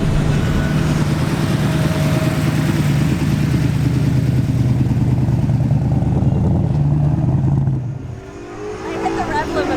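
Drag racing car engine held high against the rev limiter, a loud steady buzzing drone for about eight seconds that then drops off sharply as revs fall.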